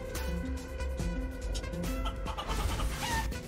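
Chicken clucking in the video game Guacamelee! 2, short repeated clucks and squawks over a steady game music bed, moderately loud and close.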